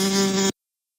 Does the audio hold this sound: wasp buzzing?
yes